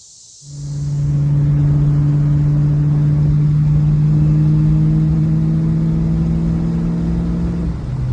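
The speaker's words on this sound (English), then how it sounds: "this is my '88 Mustang" A 1988 Ford Mustang Fox body engine starting up and settling into a loud, steady idle, a deep constant rumble with a strong hum that holds for several seconds before dipping slightly at the end.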